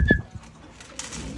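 Pigeons returning from a flight circuit to their loft, with a brief burst of wing flapping and a soft coo right at the start, then quieter rustling and faint movement nearby.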